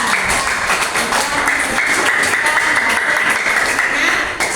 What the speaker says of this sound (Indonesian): kita kasih aplaus dulu, tepuk tangan, luar biasa